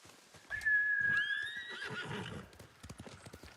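A horse in the samurai video game Ghost of Tsushima lets out one loud, drawn-out whinny that rises and then falls, with soft hoof clops and light game sounds around it.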